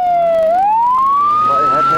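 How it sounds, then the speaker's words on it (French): A loud siren wails on a rally stage of the Rallye du Condroz, its pitch dipping then rising in a sweeping tone as it warns spectators that the first race car is approaching. "Les spectateurs sont également avertis à grand renfort de sirène de l'arrivée imminente de la première voiture"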